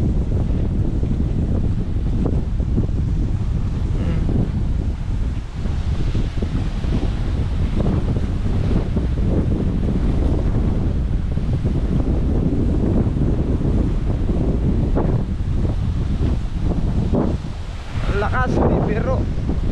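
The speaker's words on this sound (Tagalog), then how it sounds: "Napakalakas ng dagat." Strong sea surf pounds a shore under gusting wind, with heavy wind buffeting on the microphone throughout; a continuous, loud roar with a voice faintly underneath.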